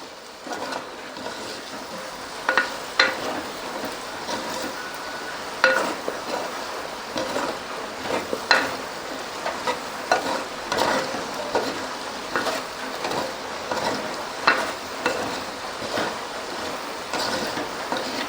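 Prawn masala for a Kerala-style prawn roast sautéing in a pan. A steady sizzle runs under frequent scraping and clinking strokes of the stirring spoon, close and continuous.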